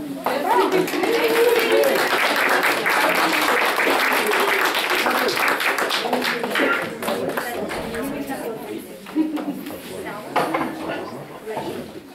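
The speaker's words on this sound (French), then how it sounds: "je vous demande de les applaudir chaleureusement." Audience applause at a university Christmas party, dense clapping and crowd chatter filling the room, steady and loud before easing slightly toward the end.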